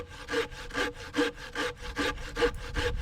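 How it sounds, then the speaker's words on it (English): A lightweight hand saw with an aggressive blade cuts through a 7-inch hardwood log in a fast, even rhythm of about eight loud rasping strokes, close up with no voices. "Let's see how the aggressive blade does against a 7-inch hardwood log."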